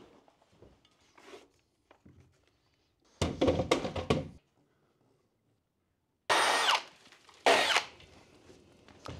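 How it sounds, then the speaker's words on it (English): A power drill bores through a bare brick wall during a house rewire, coming in loud grinding bursts of a second or two separated by quiet pauses and faint knocks. "So it makes sense to go down and drill it across."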